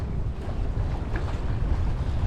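Steady, loud wind roars over a sailboat under full sail as it works to windward in a reasonable blow, heeled over and making about four knots, with a constant rushing and buffeting and no voices.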